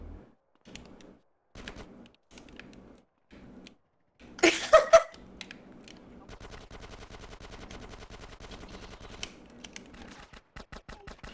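Gunfire in the video game GTA San Andreas: short bursts of rapid shots in an irregular pattern, with one louder blast partway through and a fast run of shots toward the end, plus a few sparse clicks in between.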